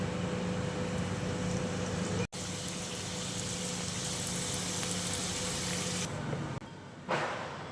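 Sugar-free karanji pastries deep-frying in hot oil give a steady, even sizzle with a faint hum underneath. It continues throughout, with only a momentary dropout partway through.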